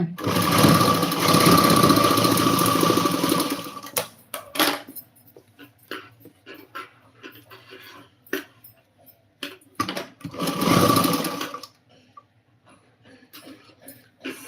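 A sewing machine stitches fabric in two loud, continuous whirring runs, each several seconds long. Between them come quieter handling clicks and taps, with a faint voice now and then.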